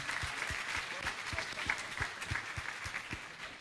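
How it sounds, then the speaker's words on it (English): Audience applause at a VEX Robotics Competition nationals event, a dense sustained clapping wash with some low thumps running steadily throughout, moderately loud and fairly close. "And a round of applause again for them."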